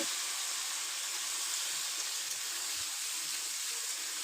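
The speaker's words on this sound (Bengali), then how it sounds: "তো এই তেলের মধ্যে সব কাঁকড়া দিয়ে দিয়েছি একসঙ্গে ভাজা করার জন্য।" Crabs fry together in hot oil, giving a steady broad hiss of sizzling that stays even and close throughout, with a faint low knock or two and no voices.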